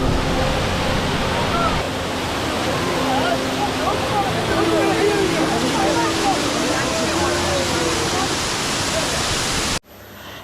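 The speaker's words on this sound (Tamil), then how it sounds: "மேலே அருவி தான் என்ன பியூட்டிஃபுல்லாக இருக்குது பாருங்க எவ்வளோ தண்ணி கொட்டுது பாருங்க" Steady loud rush of a waterfall in Kolli Hills, a constant broadband roar with faint voices underneath, cutting off abruptly near the end.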